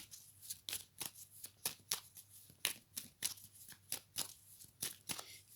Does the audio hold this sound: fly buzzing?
no